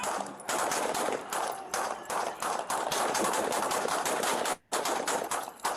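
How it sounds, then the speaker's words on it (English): Sheriff's deputies fire at a man in a liquor store parking lot, a sustained dense volley of rapid gunshots cracking nearly continuously, with one brief pause before the shooting resumes. "A hail of gunfire in a liquor store parking lot."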